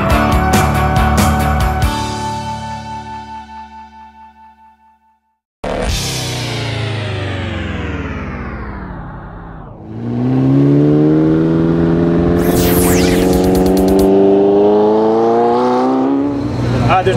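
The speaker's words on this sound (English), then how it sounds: "I'm about to do a little burnout." A 2014 Chevrolet Silverado pickup truck revs hard for a burnout, engine pitch climbing then dropping, a brief cut, then a loud sustained roar with rising whine and tire noise, close by.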